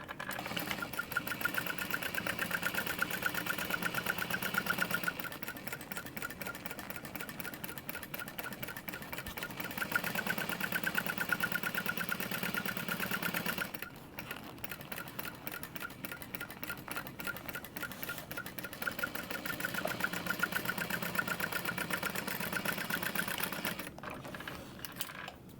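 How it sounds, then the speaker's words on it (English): A sewing machine runs a second row of stitching on a crossbody bag, its fast steady needle chatter continuing for a long stretch with brief changes in pace, close and unaccompanied by talk. "then again, you can do that second row of stitching"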